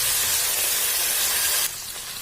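Fenugreek leaves fry in hot oil with a loud, even hiss and sizzle that drops to a quieter level near the end.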